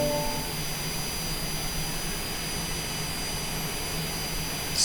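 A Cessna Citation Longitude jet engine runs in a flight simulator with a loud, steady whining roar and a faint high tonal whistle, continuous and unbroken, with no talk.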